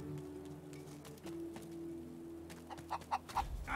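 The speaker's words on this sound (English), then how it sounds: "Oh, something terrible has happened to all these chickens." Chickens cluck in Divinity Original Sin 2, a low steady murmur of fowl with a few sharper clucks near the end, fairly quiet and alone.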